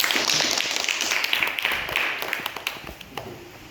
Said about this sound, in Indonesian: Mari kita tepuk tangan untuk jawaban dari kelompok 1.